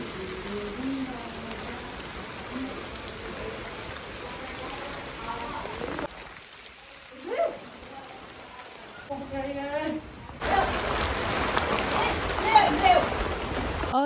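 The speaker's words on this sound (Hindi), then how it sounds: "और आप लोग देख ही रहे हैं झमाझम बारिश हो रही है दोस्तों" Heavy downpour on a village in the rainy season, a steady broadband hiss of rain on surfaces running throughout, with a voice talking over it and a louder burst of rain toward the end.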